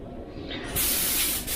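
Steady airbrush hiss as water sprays through it, growing louder and brighter partway through, a continuous fine spray with a brief dip near the end.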